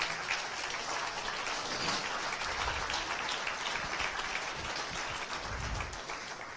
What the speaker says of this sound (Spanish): ¿Qué tal si damos un aplauso fuerte al Señor?